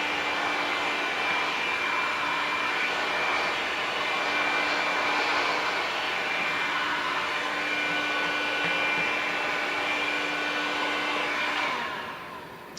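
A heat gun blows steadily across window tint film on a side window, giving a loud, continuous airy whoosh with a constant whine that drops off at the very end.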